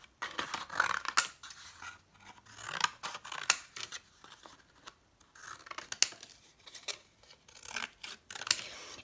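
Scissors snip through stamped mixed-media paper while circles are fussy-cut by hand: close, irregular bursts of crisp cutting strokes with short pauses between, no talking.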